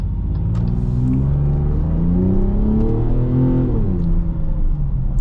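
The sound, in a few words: 2026 Dodge Charger Sixpack engine accelerating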